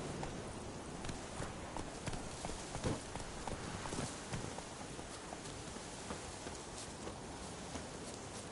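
Roach, the horse in The Witcher 3, gallops with a steady run of hoof clip-clops over a rustling, rain-like outdoor wash. The hoofbeats stay fairly close and constant throughout, with no speech.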